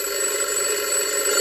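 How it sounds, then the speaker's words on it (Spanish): An alarm clock rings in a Pocoyo cartoon episode set under the sea, a continuous bright electronic tone held steadily and loudly for the whole brief moment. "Es la alarma de Pato."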